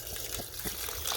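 Hydrochloric acid is poured over computer scrap in a container, giving a steady close liquid trickle and splash throughout.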